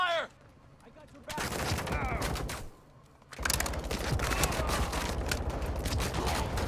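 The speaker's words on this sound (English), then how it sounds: "Taking effective fire." Bursts of automatic gunfire from a Call of Duty: Modern Warfare II firefight, loud and dense, starting after a quieter opening and running almost continuously with a short lull, with voices of squadmates under the shooting.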